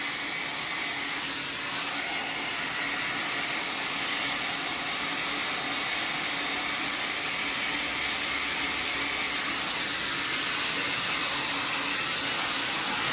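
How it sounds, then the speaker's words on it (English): A Le Styliste hair dryer fitted with a diffuser runs on its lowest heat setting, giving a steady, even airy whoosh and hiss that holds close and constant for the whole stretch with no talk. "This is on the lowest heat setting."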